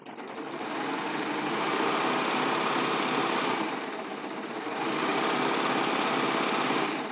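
A serger sewing machine runs steadily and loudly while sewing and trimming a pillowcase seam, a dense mechanical whir that dips briefly in the middle before resuming at full speed.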